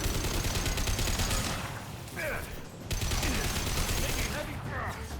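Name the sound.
gunfire in the video game Mass Effect 2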